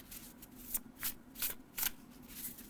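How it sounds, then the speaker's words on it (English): Overhand shuffling of a tarot deck, crow and raven themed, heard as a series of soft, rhythmic card riffles and slaps, about six bursts in quick succession, close and quiet with no talk. "you will do okay with the shuffling of the deck, or you can do overhand"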